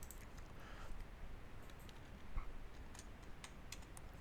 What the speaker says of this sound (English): But I'm simply going to type in the search box.